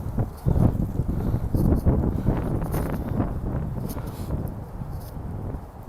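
Gusty wind buffets the microphone in low rumbling bursts outdoors at Flushing Meadows–Corona Park, New York City, fairly loud and continuous with uneven surges.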